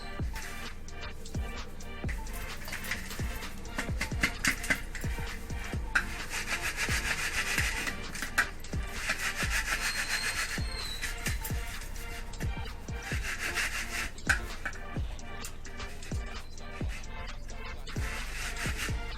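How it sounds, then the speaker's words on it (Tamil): Gram flour for ompodi is rubbed and shaken through a kitchen sieve by hand, giving a long run of rhythmic, scratchy rasping strokes that stay steady and close with no talk over them. "அது மாதிரி சளிச்சிக்கிட்டால் திப்பி நிறையா இருக்கும், அதெல்லாம் எடுத்துடலாம்"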